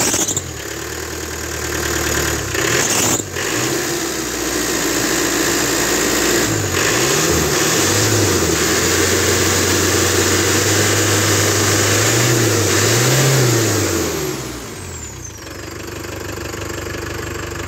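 A cold Iveco truck engine runs near idle with a rough, knocking rumble. It rises and falls in a few brief surges before dropping back to a lower idle near the end.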